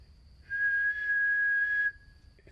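A single sustained whistle answers from the woods along a hiking trail in February, clear and steady for about a second and a half, then cutting off abruptly against quiet background.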